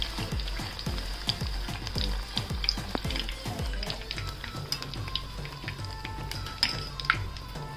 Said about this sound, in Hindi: और अभी ये पूरी हमारी इसमें फ्राई हो रही है।